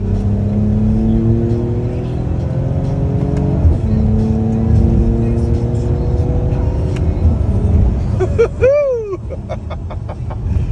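A 2021 Mercedes-Benz GLE AMG 53 accelerating hard, the engine note climbing through several gears with brief dips at each shift, loud and close from inside the cabin, ending in a sharp whooping cry from a person.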